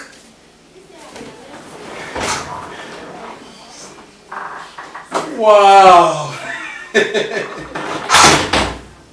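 A door is opened and closed indoors, giving a couple of short knocks and thuds spaced apart. People talk in between.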